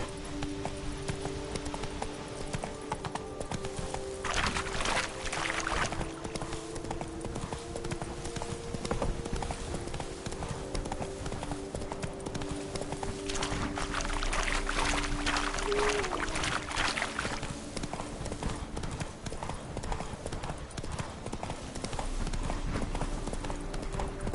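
Hooves of Roach, a horse in a video game, trot steadily in a continuous clip-clop rhythm over a constant rushing background, with no speech.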